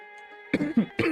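Two or three quick, harsh coughs burst out after a low steady hum, close to the listener.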